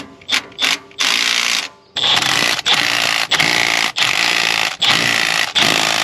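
A power tool, sounding like an impact wrench or ratchet, drives a new bolt and lock nut onto the bottom of a strut on a 2015 Chevy Tahoe/Silverado 1500 in loud, rapid bursts, several short pulses followed by longer runs.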